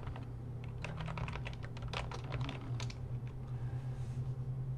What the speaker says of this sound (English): So what I'll do is go to the search box, and I'll type in Louisville,